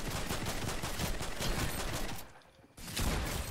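Rapid gunfire rattles in dense bursts during a Fortnite match, loud and continuous, then breaks off briefly before firing resumes.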